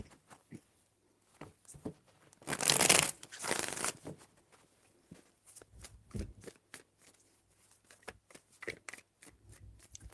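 Tarot cards are shuffled close by in quick riffling bursts, with one longer, louder flurry and scattered soft card taps and handling around it.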